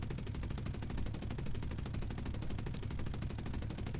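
In the War Thunder video game, machine guns fire without a break: dense, rapid rattling bursts run loud and steady for the full four seconds.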